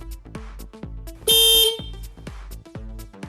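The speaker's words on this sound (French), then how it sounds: "Mettre le contact, tester le klaxon." A Honda CB500F motorcycle's horn gives one short, loud blast over a rhythmic ticking engine or indicator background.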